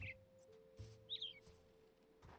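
A bird chirps in a modded Minecraft world, giving a few short, bright tweets over a steady low background hum, with no talking.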